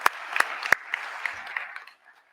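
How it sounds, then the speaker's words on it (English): Scattered claps from an audience at a Queens University of Charlotte campus gathering, applauding the reaffirmation team; a handful of sharp hand claps over a soft crowd bed, thinning out and fading to near silence. "Can we do one more round of applause for the reaffirmation team?"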